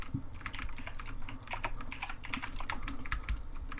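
Rapid, steady clatter of computer keyboard typing, close and continuous, with a faint low background hum.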